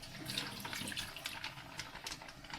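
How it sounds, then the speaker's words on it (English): Water trickles and splashes as it drains from a packet of potato noodles into a sink, a faint, steady wash of liquid running without pause. "It's filled with water, so you have to drain the water from it."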